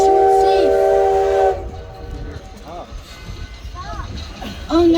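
Virginia & Truckee Railroad No. 29, an ex-Louisiana and Pacific steam locomotive, sounds a loud multi-tone steam whistle, then fades under close talking voices before another whistle blast at the end.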